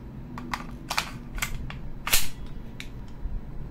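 An airsoft Desert Eagle pistol fires a series of sharp, close cracks, about eight irregularly spaced shots with the loudest near the middle, and no talking.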